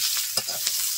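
Onion, crushed ginger and green chilli fry in a pan with a steady bright sizzle, punctuated by a couple of stirring scrapes, close and loud, no voices.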